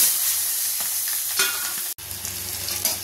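Onions and green chillies sizzle steadily in hot oil, close up, with occasional scraping and clinking of a utensil stirring the pan.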